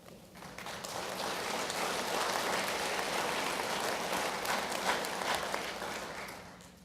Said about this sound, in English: I believe that deserves a round of applause for your elected officials.